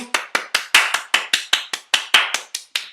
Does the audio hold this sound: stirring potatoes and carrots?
no